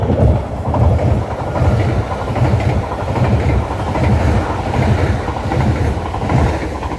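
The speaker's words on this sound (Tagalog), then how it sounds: "Hong Kong Express papuntang city." Train passing at night along the seaside in Hong Kong, with a loud, steady rumble and rhythmic clatter of wheels over rail joints throughout.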